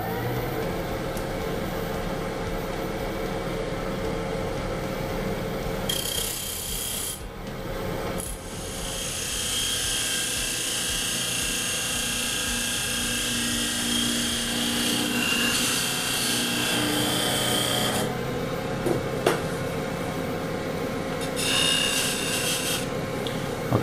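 Woodturning lathe tool hollowing out a wooden box lid, a steady loud rasping scrape under a continuous motor whir, with brief harsher bursts of cutting.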